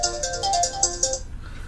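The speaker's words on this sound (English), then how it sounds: "I have a phone call here." A mobile phone ringtone in the FIFA 16 career mode game plays as a bright, repeating electronic melody of short pulsed notes, fairly loud and alone for about a second before cutting off.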